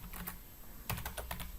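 Typing on a computer keyboard, with a steady run of light, close key clicks and a few brief faster bursts in a quiet room.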